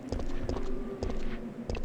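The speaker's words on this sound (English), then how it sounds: "I can hear a zombie shuffling about." Shuffling footsteps of a zombie in Resident Evil 3, a few soft dragging steps at intervals over a low droning ambient background.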